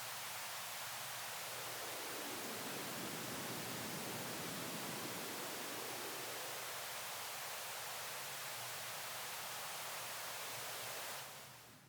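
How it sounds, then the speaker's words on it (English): Steady pink noise runs through a Behringer Wing mixer while a low-cut filter sweeps across it, the rushing hiss thinning and then filling back out in the low end, continuous and loud until it cuts off near the end. "that's a clean example of what a low-cut frequency filter does on pink noise"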